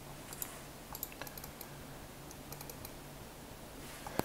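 Quiet computer mouse clicks while working in Advance Steel software, several light separate clicks scattered over a low steady room hum, with one sharper click near the end.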